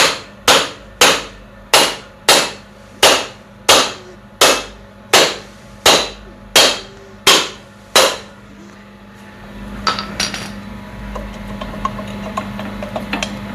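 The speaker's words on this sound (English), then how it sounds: "A few whacks so it should come off." Hammer whacks on the seized brake drum of a Honda TRX350D ATV: eleven loud, evenly spaced metallic blows close by, followed by quieter clanks and rattling as the drum is worked.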